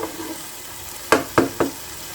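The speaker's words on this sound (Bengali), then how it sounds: "এটাকে একটু আর একটু কষাবো" Begumoti chicken being stirred and sautéed in a hot pan, a low steady sizzle broken by three quick scraping stirs close up, with no talking.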